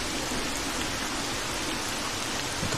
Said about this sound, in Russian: Но этот дождик не мешает.